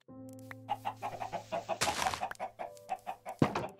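Chickens being herded into a pen give a run of short rhythmic clucks close by, with a louder squawking flurry midway and another burst near the end, over a steady low hum.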